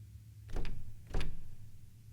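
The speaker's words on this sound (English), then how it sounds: "Emma, I can't get this door open. It won't budge." Locked, stuck train door in a video game being rattled, two distinct heavy clunking jolts about half a second apart over a low hum.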